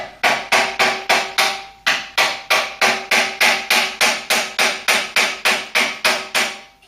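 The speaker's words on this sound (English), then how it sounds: "lining up with that pin here, we're going to strike it, and because it's sharp, the screwdriver, it can dig in" A hammer strikes a sharpened screwdriver to drive out a pin: about twenty loud, sharp metallic blows land in a regular, fairly quick rhythm at close range, with one brief pause early on.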